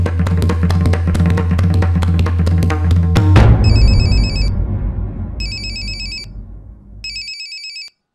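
A telephone ringtone plays loudly with music behind it, then the music cuts out and three short electronic ring bursts repeat at a steady interval before ending abruptly.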